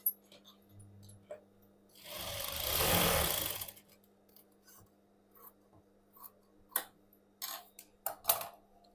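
A sewing machine runs a short burst of stitching on a princess-cut blouse, a quiet whirring run of about two seconds followed by scattered small clicks and handling taps.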